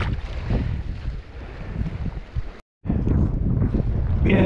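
Strong wind blows across a sea shore on a stormy beach with heavy waves, buffeting the microphone in loud gusty roars, briefly cut by a moment of silence before the rushing resumes.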